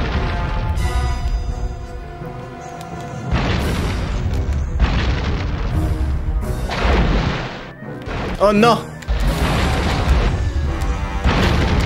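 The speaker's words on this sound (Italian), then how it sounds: "spara molto lento sto cannone" Cannon fire in the Shrek 2 video game on PS2, with repeated heavy booms over a loud, busy game soundtrack and a brief exclaimed voice partway through.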